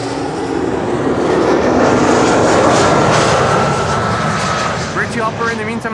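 An Embraer 190 airliner landing at Schiphol, a loud sustained jet roar that swells and then slowly eases off, with a voice briefly talking over the end.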